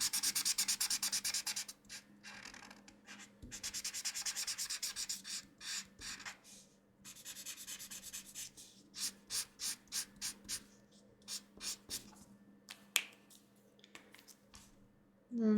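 A chisel-nib alcohol marker scratches across paper, blocking in areas with long rubbing strokes at first and then shorter rhythmic dabs, close and fairly quiet.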